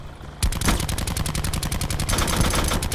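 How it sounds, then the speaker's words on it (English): Gunfire in Call of Duty Blackout: a loud, dense burst of rapid shots starts abruptly and keeps cracking in a fast, steady rhythm, up close and without speech. "I got sniped."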